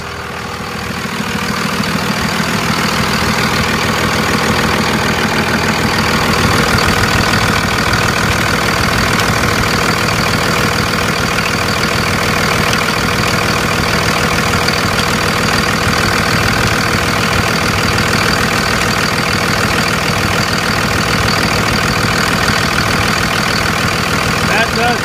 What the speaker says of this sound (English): Let's get into the engine of this truck and take a look for ourselves.